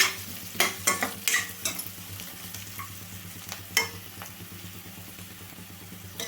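Salted onion slices frying in a pan crackle softly while a spoon scrapes and taps through them in a cluster of sharp strokes early on, then the quiet sizzle carries on alone.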